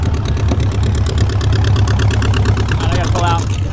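A V8-swapped Ford Ranger with its top down idles steadily up close, a continuous low pulsing engine rumble with a faint rising whine near the end.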